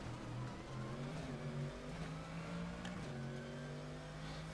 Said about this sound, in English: I'm really enjoying the sound of this car, though.